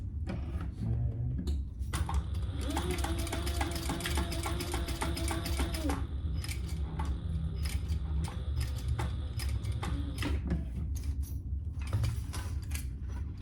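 A sewing machine stitches webbing onto a boxy crossbody bag in two close, rhythmic bursts of rapid mechanical clatter, separated by a pause with lighter handling sounds.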